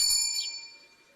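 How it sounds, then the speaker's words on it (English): A doorbell at a house door gives a single bright chime that rings out and fades away alone in a quiet room. "Ring the doorbell."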